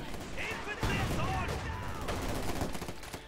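Company of Heroes 2 battle audio, with artillery shells and gunfire cracking and booming in quick succession amid dense, busy game noise, while a commentator talks over the action.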